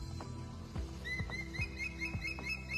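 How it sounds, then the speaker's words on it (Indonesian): A Javan hawk-eagle, an endemic island raptor, gives a series of thin, high whistled calls, repeated about five times in rising-falling notes over a low steady background hum. "Itu elang Jawa, burung endemik pulau ini."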